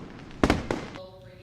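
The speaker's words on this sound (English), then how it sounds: "the magnificent fireworks display provided by America's Freedom Festival" An Independence Day fireworks display from America's Freedom Festival lets off two sharp, loud bursts close together, each followed by a ringing, crackling tail that fades out.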